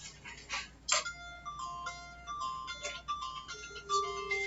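A mobile phone rings during an anatomy lecture, playing a melodic electronic ringtone of bright repeated tone sequences at moderate loudness, with faint room noise underneath and no talking.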